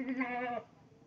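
A goat on a goat farm gives one clear, wavering bleat up close, lasting about half a second before fading into quiet background.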